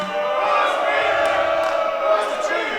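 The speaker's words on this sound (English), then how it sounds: "The crowd chanting for Busch Beer" A wrestling crowd at an independent NWL show, chanting for Busch Beer. The many voices blend into a dense, loud roar that holds steady for a few seconds.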